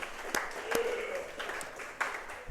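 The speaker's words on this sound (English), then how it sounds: "Round of applause for Georgetown." Applause on a high school football coaches show after a road win, a faint scattered round of claps with a few distinct sharp hits spread across a few seconds.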